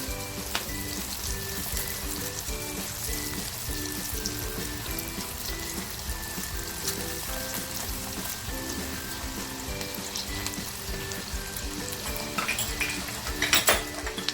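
Cluster beans (gavar) stir-fry in a pan for a dhaba-style dish, with a steady sizzle and repeated scraping and clinks of a metal spatula against the pan throughout, a little busier and louder near the end.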